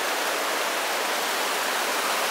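Clean spring water at its source in the Serra da Canastra hills rushes steadily, a close, dense and continuous broadband wash with no talk over it.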